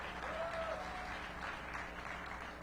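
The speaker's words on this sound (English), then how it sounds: "Let's give a round of applause for doing that." Audience applause at a tenth annual March Madness event hosted by the mayor in DC, a steady, fairly distant wash of clapping with a faint voice briefly rising over it.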